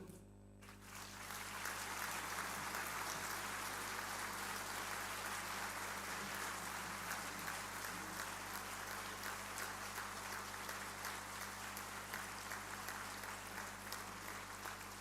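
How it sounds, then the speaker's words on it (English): Sustained audience applause at an evening degree convocation ceremony on a college campus, a dense wash of clapping that swells in after a second and holds steady and fairly loud throughout, with a low hum underneath. "for you to give a thunderous applause congratulating your children"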